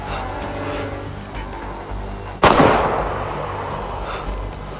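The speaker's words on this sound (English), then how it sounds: "Did you just shoot him again?" A single sharp gunshot cracks out in DayZ at a dam battle, a loud sudden burst that decays over a second amid steady background game ambience.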